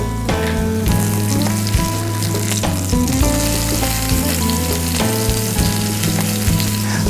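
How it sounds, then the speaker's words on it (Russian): A meat patty sizzles and crackles in a frying pan over medium heat, a loud, continuous spattering hiss with a steady low hum beneath it. "Закидываем нашу котлету. И на средний огонь. Пусть она потихонечку себе жарится."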